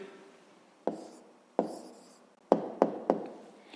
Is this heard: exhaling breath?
no